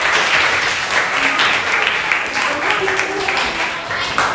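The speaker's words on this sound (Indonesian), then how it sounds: "Oke, tepuk tangannya dulu semua." Classroom applause for a student group's presentation, a steady wash of many hands clapping throughout with some voices and chatter mixed in.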